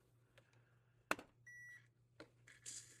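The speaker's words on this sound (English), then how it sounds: "you'll hear that double beep" An RC drift car remote switches on with short electronic beeps, quiet and close among faint clicks and handling noises.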